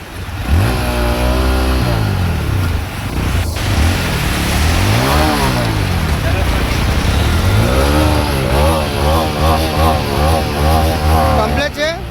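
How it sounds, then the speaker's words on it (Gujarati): A freshly washed motorcycle is self-started and revved several times, its engine sweeping up and down in pitch in repeated loud, close bursts while voices talk nearby. "તમે બાઇક ધોયું હોય તમે સેલ મારીને ચેક કરી લો"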